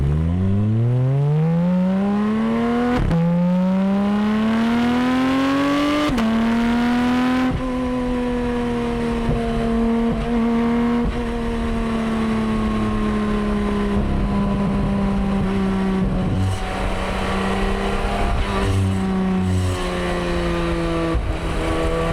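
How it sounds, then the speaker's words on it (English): A Porsche 718 Cayman GT4 RS exhaust, slightly raw and rattly, drones loudly and continuously, its pitch stepping up through several gear changes as the car pulls and cruises, heard alone with no talk. "That exhaust don't sound the most refined"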